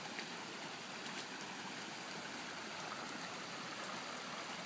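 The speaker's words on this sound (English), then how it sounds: "Our pond is already flowing over its spillway." Floodwater pouring over a pond spillway during Oklahoma flash flooding in May 2015, a steady, full rushing roar that holds unbroken and close throughout.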